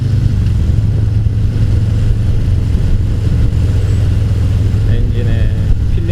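A 2018 Harley-Davidson Fat Boy 114 motorcycle idles with a low, steady, loud rumble throughout while someone talks over it.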